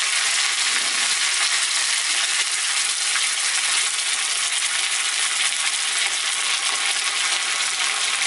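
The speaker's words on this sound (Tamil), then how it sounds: "கடுகு நல்லா பொரிஞ்சிட்ருக்கு." Mustard seeds spluttering loudly in hot oil in an iron ladle, a steady, dense crackle of tiny pops that never lets up.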